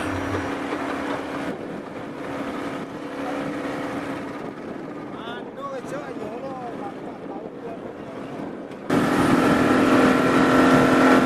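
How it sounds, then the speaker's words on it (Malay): Passenger boat motor running while pulling in to the Sioban jetty on Sipora in the Mentawai islands, a steady engine drone with wind buffeting, voices murmuring in the middle, then the engine noise surging louder near the end. "Seterusnya, bot kami singgah di jeti Sioban Sipora."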